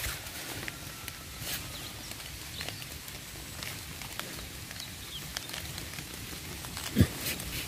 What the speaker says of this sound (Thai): ฝนมันตกนะครับผม